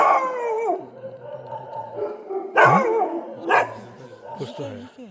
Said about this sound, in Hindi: बगल वाला कुत्ता भौंक रहा है